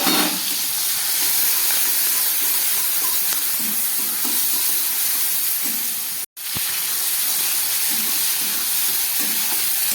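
Shrimp seasoned with salt and turmeric fry in oil, a loud, steady, hissing sizzle that carries on without pause apart from one very brief dropout, no voices.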